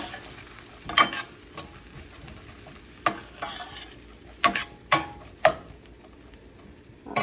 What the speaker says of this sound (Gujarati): પાછું હલાવી દઈશું.